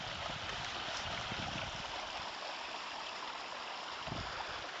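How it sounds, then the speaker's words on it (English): Water flows steadily at a small spring-fed pond outdoors, a soft continuous trickling and burbling rush with faint low thumps, no voices. "And my little pond, spring fed."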